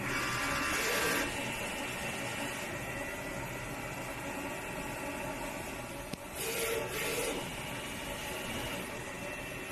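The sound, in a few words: DTF printer printing a vertical calibration picture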